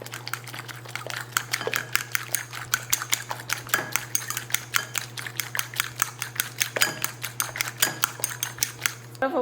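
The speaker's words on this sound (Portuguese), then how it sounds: "Então, bora misturar aqui." A utensil rapidly scrapes and clinks against a bowl while mixing tapioca batter for a breakfast dish, producing dense, regular tapping strokes close up over a steady low hum.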